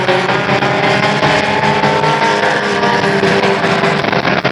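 Pure stock race cars battle on a track, their engines roaring loud and continuous in a dense wall of sound with passing surges.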